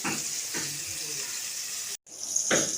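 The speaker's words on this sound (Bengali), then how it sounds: "এখানে করলা আর কাকুল ভাজা বসিয়ে দিয়েছি" Bitter gourd frying in a pan in a home kitchen, a steady soft sizzle with a few faint clinks, heard alone.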